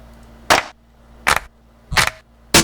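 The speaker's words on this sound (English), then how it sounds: "I like to double up my snares" Layered snare drum samples in a beat: four sharp, bright hits spaced roughly evenly apart, each a quick crack that decays fast, with a soft low hum between them.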